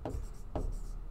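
Marker or pen writing an algebra equation in slope-intercept form on a board, two brief scratchy stroke bursts close by, with no talk.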